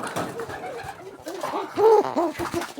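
Pet pigeons cooing close by in a loft at Easter, several soft throaty rolling coos rising near the end, with faint background murmur.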